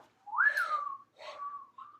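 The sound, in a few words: whistled imitation of a mourning dove call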